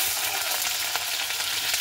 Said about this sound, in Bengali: সবার প্রথমে আমি কিন্তু আলুগুলোকে ভেজে নেব।